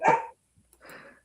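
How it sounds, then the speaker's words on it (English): A dog gives two separate barks, the first sharper and louder, the second a bit softer after a short pause, heard nearby with no one talking. "I guess that had to be Hillbilly's dog."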